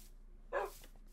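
One short, bright bark from a Minecraft dog rises out of a quiet hum, followed by a faint trailing echo.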